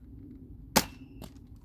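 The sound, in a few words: old toy dart gun firing at a target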